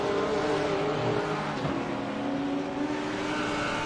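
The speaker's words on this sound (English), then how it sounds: "the Porsche just manages to accelerate away so much quicker" A Porsche GT3 race car in a sim-racing event at the Nürburgring GP accelerates out of a turn, a loud, sustained engine drone with shifting revs and other cars audible nearby.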